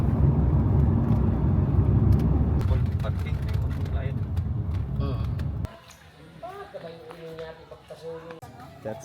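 Car engine and road rumble while driving in Mindanao, loud and steady, then cutting off abruptly partway through, after which voices talk over quieter background.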